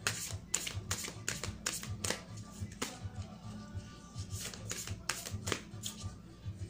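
A deck of cards is shuffled in quick bursts of riffling and sharp taps, followed by a card being drawn, all close and fairly quiet against a faint hum.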